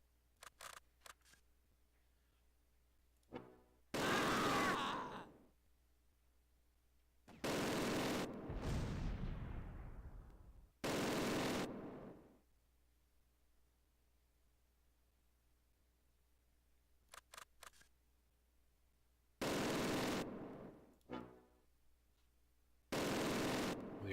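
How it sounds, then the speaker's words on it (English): Bursts of machine gun fire from the Close Combat: Last Stand Arnhem war game, several loud broadband volleys spaced across the stretch with quiet gaps between, one burst trailing off into a decaying rumble, no talking. "Well, your MG certainly works now."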